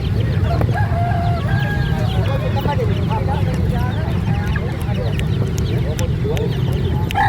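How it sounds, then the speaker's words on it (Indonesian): Young Bangkok gamefowl chicks about one month old, with dense, constant chirping and clucking from a crowded flock close by, steady and loud throughout. "Anakan bangkok teman-teman, umur sekitar 1 bulan."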